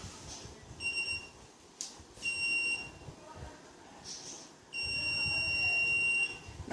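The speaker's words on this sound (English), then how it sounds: "you had a short beep and a short flash followed by a long beep and a long flash" An Arduino Morse coder sounds the letter A as a short electronic beep followed by a longer steady tone, thin and high-pitched over a background of low room noise.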